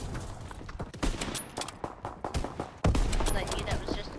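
Machine gun fire in a WWII video game battle at a bridge, with rapid bursts and scattered loud shots from near and far, growing denser and heavier toward the end, while players talk over the gunfire.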